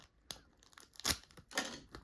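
A sealed plastic package is torn open in a few short, crisp rips and crinkles, close and fairly faint, with brief pauses between them.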